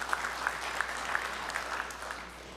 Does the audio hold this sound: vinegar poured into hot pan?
no